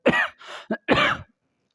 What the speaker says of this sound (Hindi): सॉरी दोस्तों खांसी हो गई है